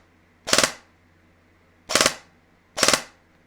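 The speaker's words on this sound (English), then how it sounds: "This is 3-round burst because I wanted safe semi and 3-round." An RDD Airsoft Works Bludhaven airsoft gun with a Gate Titan trigger unit fires three separate three-round bursts. Each burst is a tight, sharp, close rattle of three quick shots, with pauses of just over a second between bursts.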